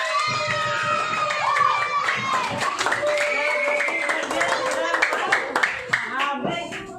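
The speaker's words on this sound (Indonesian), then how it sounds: "Beri tepuk tangan untuk kelompok" Classroom applause for a group of students, lively clapping joined by children's shouts and cheering voices, close and busy throughout.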